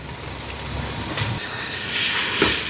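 Mustard seeds, onion, curry leaves, garlic and green chilies sizzle in hot oil, giving a steady, loud hiss with a brighter surge near the end. No one speaks.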